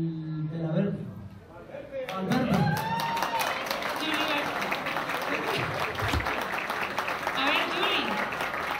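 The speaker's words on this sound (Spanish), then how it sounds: "Un aplauso para todos mis estudiantes." Applause from an audience at a 2011 school graduation ceremony, rising after a few spoken words and continuing as a steady, dense clatter of clapping while a voice carries on over it.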